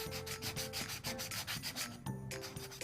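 A sanding block is rubbed by hand over a small wooden ring box in quick, rhythmic back-and-forth scrapes, close and steady, with a brief pause near the end and no talking.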